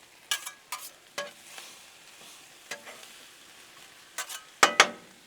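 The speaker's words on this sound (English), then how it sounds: "stir up our taters and onions" Potatoes and onions frying on a Blackstone griddle, stirred with a spatula over a soft sizzle: a series of sharp scrapes and taps, scattered and irregular, with the loudest strokes near the end.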